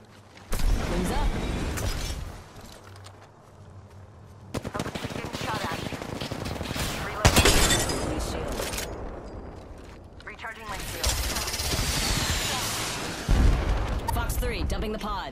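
Bursts of automatic weapon fire and impacts in a video game firefight in Apex Legends, loud and close, arriving in several volleys separated by brief lulls.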